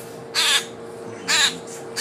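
A pet bird lets out two loud, harsh calls about a second apart, with the start of a third at the end, over a faint steady hum and no talk.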